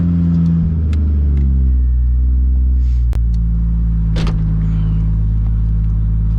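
Cold start of an 800+ hp Toyota Supra MK4 engine, a loud, deep idle with a low droning rumble and a slight rise and settle in pitch, close by with a few faint clicks.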